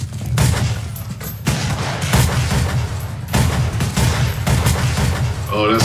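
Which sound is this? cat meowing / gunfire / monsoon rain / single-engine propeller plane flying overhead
gunfire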